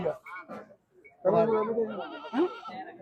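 A goat bleats nearby at a goat market in Saholi, in short wavering cries while people talk over and around it.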